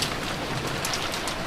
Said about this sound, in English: the constant rain sounds good